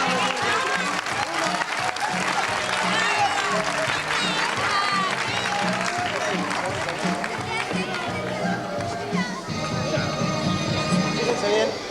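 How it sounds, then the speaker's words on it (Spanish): Applause and lively crowd noise at a magic show, with clapping running throughout amid chatter and a voice talking over it. "Un aplauso, vamos a darle."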